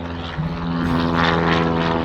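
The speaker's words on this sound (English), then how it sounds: "every plane in Long Beach is taking off the second I decide to start recording" Propeller airplanes take off at Long Beach, producing a loud, continuous engine drone with a steady hum that grows slightly stronger as the aircraft climb, with no other sounds over it.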